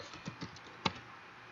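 Keys click softly on a computer keyboard as a switch configuration command is typed, with a few light taps followed by one sharper keystroke, close and quiet with no talking.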